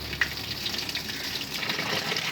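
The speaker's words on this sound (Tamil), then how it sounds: "இது முதலாவது தண்ணி நிரம்பி கொண்டு இருக்குது." Tap water pours into the tub of a new Innovex DSAN-65 semi-automatic washing machine, a steady, close gushing and splashing that continues without a break.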